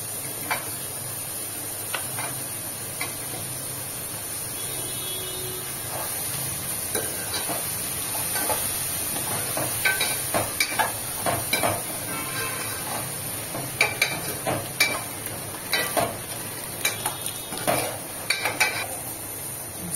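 Chopped cauliflower frying with ginger garlic paste in a pan for cauliflower egg curry, a soft steady sizzle with frequent sharp scrapes and taps of a spoon against the pot, growing busier toward the end.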